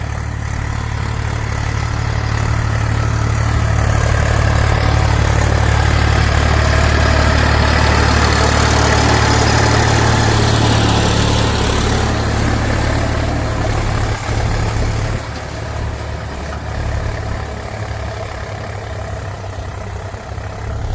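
A tractor engine drones steadily and loudly, with a low rumbling hum that eases slightly toward the end.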